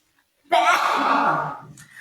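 A single loud sneeze bursts out close by after a moment of silence, trailing off into a breathy exhale.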